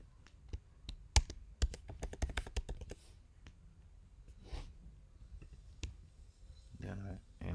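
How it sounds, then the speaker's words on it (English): Quick bursts of clicks come from a computer keyboard as a name is typed during poster design work. The taps are fairly quiet and close, with soft breathing and pauses between bursts. "I just type the name"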